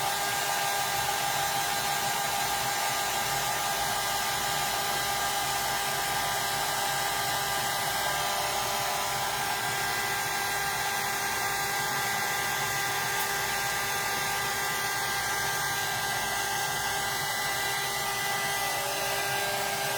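A handheld heat tool blows hot air over freshly painted fabric for a Halloween ghost craft, giving a continuous, even whirring hiss that stays close and steady for the whole stretch, with no speech.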